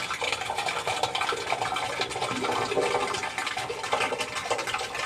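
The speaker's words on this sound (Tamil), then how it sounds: "இது உள்ளார ஊற்றுற சவுண்ட் நல்லா கேட்குது." Water seeping and trickling into a borewell during bore cleaning work, heard close as a steady, dense rushing gurgle that carries on without a break.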